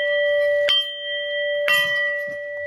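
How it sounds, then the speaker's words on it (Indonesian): A bell at a monks' house in the Cangar forest sounds as the meal signal, with ringing strikes that hang and decay in a clear, close tone. "kalau 3 kali lonceng, ini nanti tandanya itu makan"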